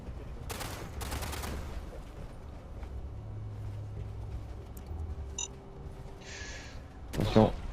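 Bursts of gunfire in the video game Fallout 76, a couple of loud volleys early then scattered distant shots and clatter, with faint game ambience underneath.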